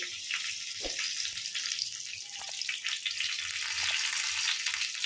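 Whole black pepper dropped into hot oil for a prawn pulao, giving a steady close sizzle and crackle with faint clinks of stirring, no talk.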